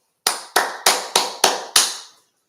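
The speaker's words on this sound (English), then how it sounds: "clap for myself" A single person claps their hands six times in an even, deliberate rhythm, each clap sharp, close and loud, with silence around them.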